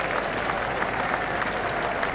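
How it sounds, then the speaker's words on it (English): Cricket crowd at a T20 World Cup match between New Zealand and Bangladesh, standing and applauding a batsman's half century; dense, steady clapping and cheering from a large stadium crowd, sustained and even throughout. "Crowd are standing and applauding."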